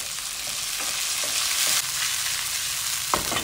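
Garlic and onion sauté in hot oil with a loud, continuous sizzle, broken by a few scraping strokes of a spoon as they are stirred in the pan.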